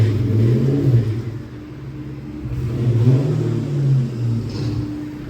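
A supercharged Saleen car on a dyno gives off a steady low engine rumble that swells and eases in slow surges, heard close with no talking.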